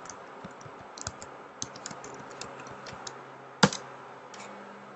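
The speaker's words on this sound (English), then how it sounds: "you'll type in your username and password that you provided from Saywire" Fingers tap out a username and password on a computer keyboard, with quiet, irregular key clicks and one sharper, louder keystroke near the end.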